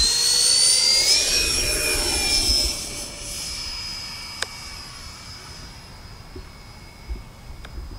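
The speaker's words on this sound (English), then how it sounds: "let's get her up in the air. All right, guys, taking off the Freewing A10." A Freewing A-10 Thunderbolt II scale RC jet with twin 80mm electric ducted fans takes off, loud high-pitched whine rising then fading into the distance as it climbs away.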